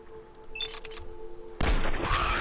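Guns fire in Fallout 4: quieter mechanical clicks and rattles come first, then a loud burst of gunfire that stays heavy and sustained through the end, with no talking.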